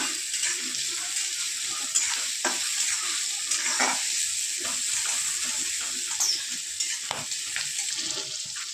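Onions sizzle and fry in a pan for upma, a steady crackling hiss broken by occasional stirring scrapes, close and fairly quiet.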